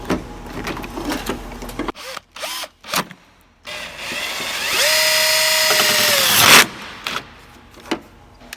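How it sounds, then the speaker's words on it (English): Power drill spinning in reverse at full speed, trimming a plastic headlight housing on a Duramax truck: a sustained whining buzz of several seconds with a steady tone, near and loud, framed by short bursts of tool and handling noise. "you put your metal drill bit on reverse setting at full speed"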